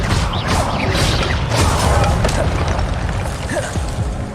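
Expelliarmus spell cast in a Harry Potter video game, a dense run of booming magical bursts and crashing impacts that stays loud and busy throughout with no pause.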